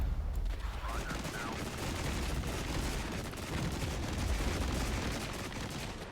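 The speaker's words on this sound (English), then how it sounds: "I'm going to artillery strike this." Artillery strike in the war game Regiments, a dense barrage of booming blasts and rumbling impacts that carries on without pause across the whole stretch.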